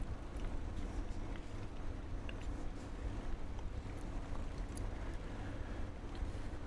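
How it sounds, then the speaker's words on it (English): The Lodestar truck in SnowRunner idles and pulls with a bubbly, low engine rumble, steady and continuous throughout, moderately loud with a fluttering, burbling texture and no pauses. "I do very much enjoy that bubbly engine noise."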